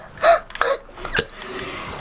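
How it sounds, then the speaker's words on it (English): A person with hiccups gives a few short, sharp involuntary gulps in quick succession, close and fairly loud, with no speech around them. "Oh, and I got the hiccups."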